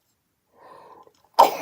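A single sharp, loud sneeze bursts out alone after a brief soft, breathy build-up, recorded close at a crafting table.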